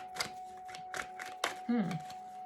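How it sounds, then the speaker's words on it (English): Tarot cards being shuffled: a few soft, papery riffling bursts spaced through the moment, mixed with a speaking voice and a faint steady hum. "Right now I'm shuffling for the energy that you're coming out of spiritually."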